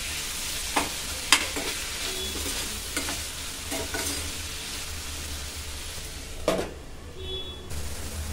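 Ivy gourd and tomatoes with tamarind and salt stewing in a pan, stirred now and then: continuous close sizzling broken by several sharp spoon scrapes and taps against the pan.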